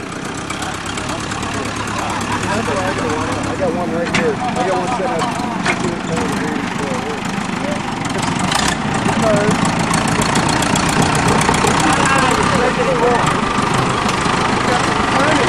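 A recovery vehicle's engine idles steadily and loudly close by at a farm cliffside scene, a constant rumbling drone that goes on throughout.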